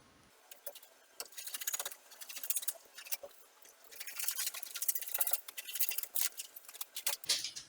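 Scissors cutting out fabric pieces for a jacket, a series of close, quiet snipping crunches in irregular bursts with short pauses between strokes.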